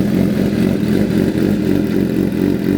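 A 2024 Suzuki GSX-R750 with aftermarket exhaust and a PC6 fitted gives a steady, loud, close engine drone with a rough low rumble, holding at a constant pitch throughout.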